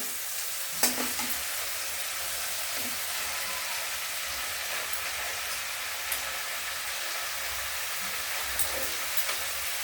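Pumpkin leaf greens sizzle steadily in a frying pan while being stirred, a continuous hiss of frying with a few brief clatters of the utensil against the pan.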